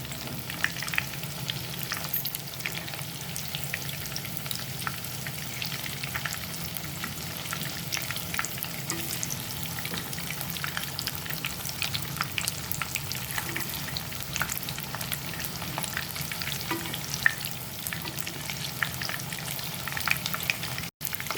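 Paneer cubes coated with cornflour frying in a pan until light golden brown, a steady, dense sizzle and crackle with occasional stirring clicks, going on unbroken and alone.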